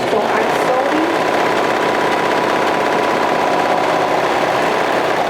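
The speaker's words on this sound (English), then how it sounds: "sewing the center back." A sewing machine runs continuously and loudly, stitching the center back seam of a flutter wrap garment, with a dense, steady mechanical whir throughout.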